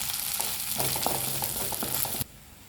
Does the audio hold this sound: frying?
yes